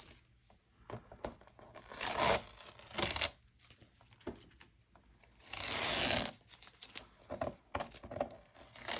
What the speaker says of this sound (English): let's peel back the tape and see what we have.